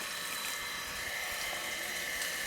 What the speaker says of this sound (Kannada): ಹಾಗೆ ಗಿಡಗಳಿಗೆ ಸ್ವಲ್ಪ ನೀರು ಹಾಕಿ